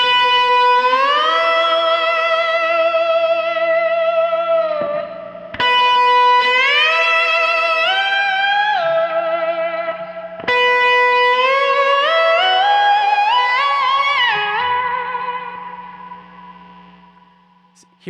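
Sustained electric slide guitar notes with distortion glide up and down in three long phrases, and the final phrase fades out into a lingering reverb trail.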